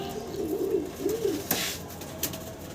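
A pair of Giribaz fancy pigeons coo twice in soft, rolling, low phrases up close, followed by a few light rustles and taps.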